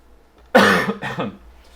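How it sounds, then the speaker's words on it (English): A single harsh cough bursts out, followed closely by a second, softer cough, close to the listener with quiet around them. "Sorry, still battling my cough."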